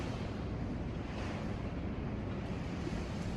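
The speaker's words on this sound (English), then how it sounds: "Serious wind." Strong wind during a thunderstorm roars as a dense, steady rush of noise with heavy low rumble. It stays close and constant throughout, with no voices.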